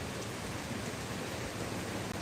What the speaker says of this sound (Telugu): పెద్ద పెద్ద వర్షం వస్తుంది మళ్ళీ చిన్నగా రాదు